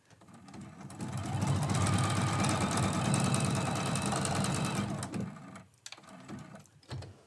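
A sewing machine runs continuously and close up while stitching quilt-as-you-go Christmas quilt blocks, a steady whirring hum for about five seconds before stopping, followed by a few faint clicks and handling sounds.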